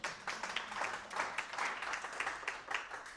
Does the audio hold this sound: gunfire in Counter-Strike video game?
no